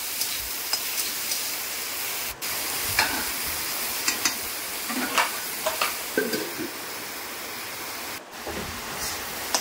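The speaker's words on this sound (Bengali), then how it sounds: "তো আগে আলু বেগুনটাকে ভেজে নেব" Potato and eggplant fry in a pan, giving a steady close sizzle with scattered stirring scrapes and soft clicks, alone without talk, while rain may also be falling.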